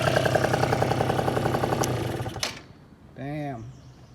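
A 70cc Polini Corsa engine on a Vento Triton R4 minibike idles with a fast, buzzing putter and then cuts out abruptly, leaving near silence before a voice speaks briefly.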